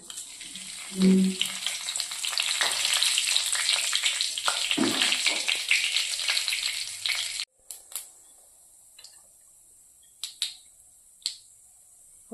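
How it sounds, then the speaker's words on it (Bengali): Whole cumin, a bay leaf and crushed cardamom go into three tablespoons of hot white oil and crackle and sizzle loudly for several seconds. The sizzle then stops abruptly, leaving a few faint knocks and clatters. "এবারে আমি দিয়ে দিচ্ছি সাদা তেল তিন টেবিল স্পুন ফোড়নে দিচ্ছি গোটা জিরে একটি তেজপাতা দুটো এলাচ থেতো করে"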